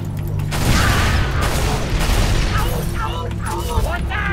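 Explosion from the Halo Reach video game: a loud, sustained rumbling blast with crackling debris, heavy and close, under ongoing game noise with players talking.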